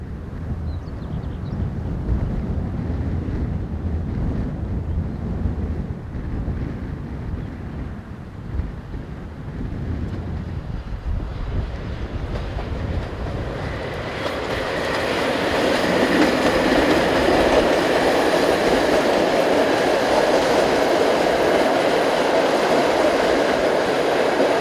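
EU07 electric locomotive 07015 hauls a long-distance Kraków to Szczecin express, a low rumble of wheels that grows into a loud, close roar as the train passes, with no voices.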